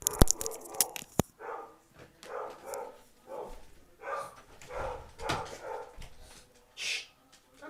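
Several dogs bark at a delivery at home, in loud, uneven bursts at first that settle into softer, repeated yips and whimpers, with no talk over them.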